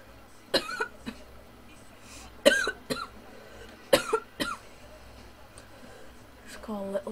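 A character in the video game Saints Row: The Third coughs repeatedly: several sharp, raspy hacks come in irregular bursts, some in quick pairs, over a low game background hum, with a throat-clearing rasp near the end.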